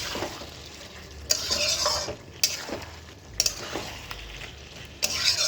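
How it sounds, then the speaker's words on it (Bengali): Prawns with potato and pointed gourd being stirred in spices in a pan, repeated scraping strokes of a spatula over a steady sizzle, close up with no talk. "সব এবার একসঙ্গে মিলিয়ে আমি আর একটু কষাবো সব মশলার সঙ্গে।"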